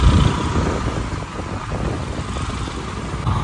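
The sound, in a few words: street traffic at Dhauli Pyau market, Mathura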